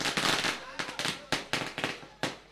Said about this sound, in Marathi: फटाक्यांच्या आतषबाजीत